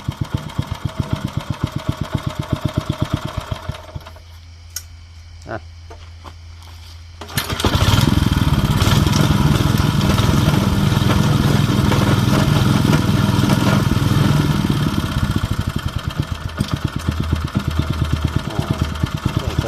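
A used imported Robin 5 hp four-stroke gasoline engine with reduction shaft runs with a steady mechanical putter, dropping to a quieter lull before revving back up loud and close, then settling into a sustained rough drone.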